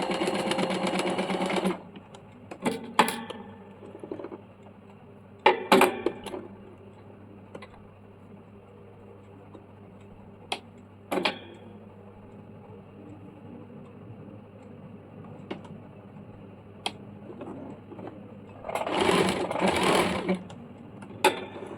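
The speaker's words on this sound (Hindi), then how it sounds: "एक सिलाई चला देंगे।" A sewing machine runs a straight seam on a baby umbrella frock, with loud whirring bursts at the start and near the end, quiet handling clicks and ticks in between.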